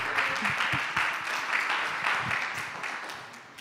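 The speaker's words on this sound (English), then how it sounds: "I think that deserves another round of applause" Audience applause after a presentation at a concert event, a steady wash of many hands clapping at moderate distance, continuous and gradually fading over a few seconds.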